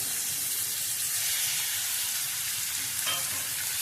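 Marinated chicken liver fries in a pan with a steady, moderately loud sizzle and hiss, and a brief stir near the end, with no one speaking.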